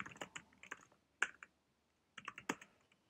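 Quiet, close-up clicking of keys on a computer keyboard, typed in quick bursts separated by a short pause.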